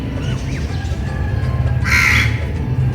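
Crows caw and squawk while fighting over scattered food outdoors, with harsh calls rising to a loud burst midway over steady low background noise.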